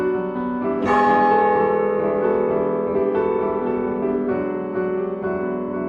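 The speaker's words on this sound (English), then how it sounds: "The clock tower, 110 feet high, with bells 1, 2, 3 for the quarter and the hour." Clock tower bells in a 110-foot tower at Congleton's town hall chime for the quarter and the hour. Three loud, resonant strikes ring out, each followed by a long, humming decay.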